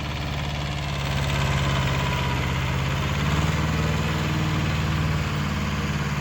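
A Kubota B5001 tractor engine drones steadily at close range while rotary tilling, a low rumbling chug with a slight rise in intensity, running continuously without pause.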